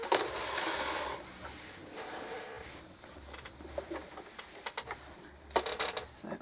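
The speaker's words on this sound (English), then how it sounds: "now I'm going to go back to the machine and top stitch all the way around." A sewing machine top stitches around the edge of a fabric peg bag, a steady close mechanical whir in bursts with small clicks and pauses as the fabric is turned.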